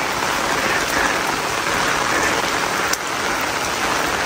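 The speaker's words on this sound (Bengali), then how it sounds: "খুব বৃষ্টি।" Heavy rain pouring on a rough hill path between villages, a dense, loud, even hiss of falling water that fills the whole moment without a break.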